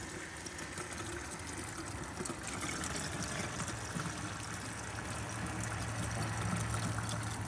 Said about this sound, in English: It appears to be chugging out the water.